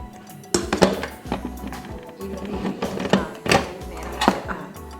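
A cooking pot lid being closed in a kitchen, giving a few close metallic clanks and light clinks spread over several seconds, with no talking.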